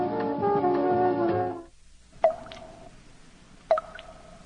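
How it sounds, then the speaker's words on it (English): A dripping blood sound effect: two separate, well-spaced wet drips, each with a short ringing tail, heard alone after a stretch of sustained tonal sound. "I love the sound of dripping blood."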